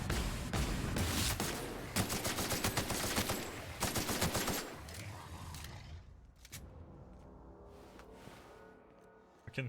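Bursts of rapid automatic gunfire in The Outer Worlds rattle loudly and close for about six seconds, then cut off, leaving a quieter mechanical tail and a final sharp crack.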